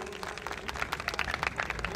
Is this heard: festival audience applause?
yes